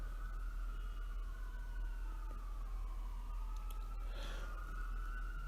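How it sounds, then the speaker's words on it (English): A siren wails faintly in the distance, a long falling and rising tone over a constant low hum and background noise. "You may be able to hear a siren in the background"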